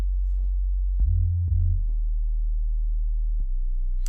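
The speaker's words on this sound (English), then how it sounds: "if we use re-trigger, we're hitting the note every single time rather than letting the note slide from one sine wave into another sine wave" Sine-wave synth bass with re-trigger enabled, each note struck afresh instead of gliding, leaving a few short low tones with audible clicking pops at their starts, alone and clean with no talk.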